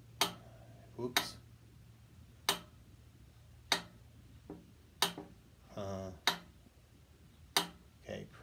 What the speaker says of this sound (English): One of the disadvantages of having a mechanical metronome is that it is affected by things like gravity.